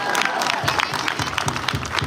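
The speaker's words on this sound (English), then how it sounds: "Let's give Braxton Miller a round of applause" Audience at a financial wellness symposium fireside chat applauding Braxton Miller, a steady burst of many hands clapping with a little cheering, fairly close and continuous.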